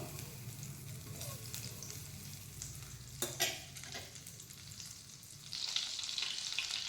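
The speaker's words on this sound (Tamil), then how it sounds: "பட்டர் நல்லா மெல்ட் ஆகுது." Butter melts and sizzles in a pan for green peas gravy, a steady soft hiss with a low rumble and a couple of clanks near the middle. The frying grows brighter and louder toward the end.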